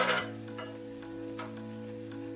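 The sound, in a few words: spoon stirring Weetabix porridge in a pan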